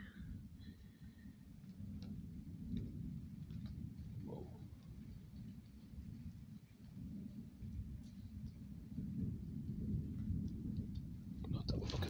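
Thunder rumbling outside during a storm with lightning, a steady low roar with loud rolling swells building toward the end, continuous and fairly close throughout.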